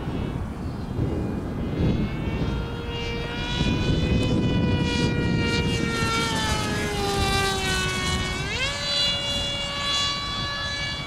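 RC model jet aircraft (Grayson Hobby Monster Jet) screaming overhead with a loud whining turbine tone that rises and bends as it passes close, steady roar throughout, no talking.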